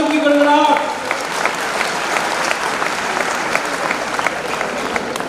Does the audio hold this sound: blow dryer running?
no